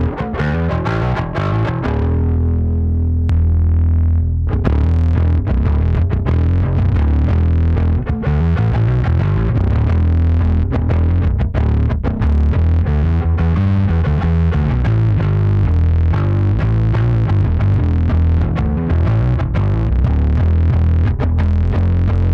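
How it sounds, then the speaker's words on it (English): Heavily fuzzed electric guitar through an overdrive pedal, playing loud, saturated chords and riffs, thick and buzzy with a sustained distorted tone throughout. "you can turn the overdrive pedal into kind of a fuzz pedal"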